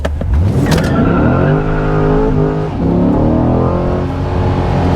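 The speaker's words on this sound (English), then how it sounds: "Having the car in track mode, I quickly want to just do a quick launch." A 2021 Chevrolet Corvette C8 in track mode roars as it launches hard, revs climbing steadily with rising pitch and a brief dip at a gear change, loud and close.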